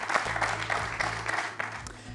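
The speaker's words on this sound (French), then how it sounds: "ça s'applaudit" Studio audience applause on the French TV quiz show Questions pour un champion, a steady burst of clapping from a seated crowd, moderately loud and continuous for a couple of seconds.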